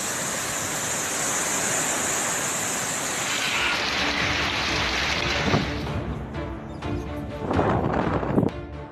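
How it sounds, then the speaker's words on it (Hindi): Heavy rain pours in a steady broad hiss in eastern India ahead of Cyclone Jawad, loud at first and easing into patchier splashing with some thumps near the end. "कई जगह भारी बारिश शुरू हो गई है"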